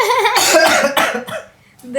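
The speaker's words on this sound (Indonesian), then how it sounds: "ya nggak apa-apa, batuk aja." A few harsh, close coughs in quick succession, loud and raspy, followed by a short pause and one more smaller cough.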